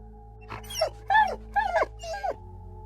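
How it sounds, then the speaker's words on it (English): A dog yelps several times in quick succession, sharp, loud and close, each cry a high whimpering yip over a steady low hum. "just as it lunged forward, the dog yelped"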